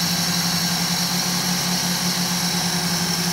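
A Toyota 2E engine idles steadily while being tuned, a constant close mechanical hum with a low droning pulse and no break in level.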